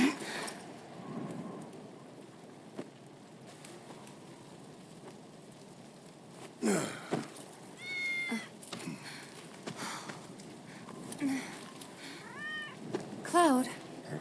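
A cat in the video game Final Fantasy VII Remake meows a few times, short rising calls scattered over a faint, rain-like background hiss.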